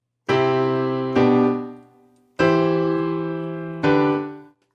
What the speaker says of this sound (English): another kind that we have is called a plagal cadence.